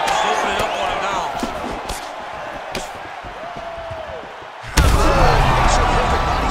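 A body punch lands in the video game UFC 5 with a heavy, loud thud partway through, set against steady crowd noise and sports commentary.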